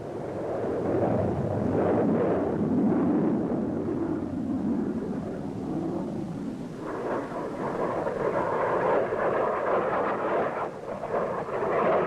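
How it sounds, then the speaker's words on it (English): Aircraft taking off from an airfield to deliver sensors during the Vietnam War, a loud sustained roar with low rumble filling the whole stretch, swelling slightly and shifting in tone partway through, with no talk. "Aircraft take off to deliver the sensors to the selected locations."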